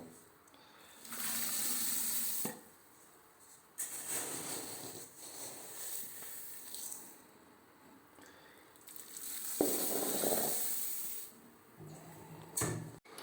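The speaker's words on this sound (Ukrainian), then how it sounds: "Починаємо переносити солод у котел." Milled barley malt for a pale Keller-style lager being poured into 70-degree water in a brewing kettle: a soft, broadband pouring and rustling rush in several bursts with short pauses, fairly near and moderately loud, with no talk.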